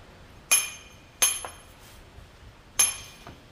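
A nicker chisel is struck against stone to dress a drafted margin up to the arris, giving three sharp ringing metallic clinks spaced irregularly, close and fairly loud against a quiet background.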